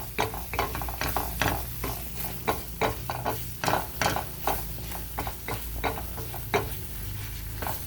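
Onions fry in a cast iron pan with a steady crackling sizzle, broken by repeated scraping and stirring strokes of a utensil against the pan.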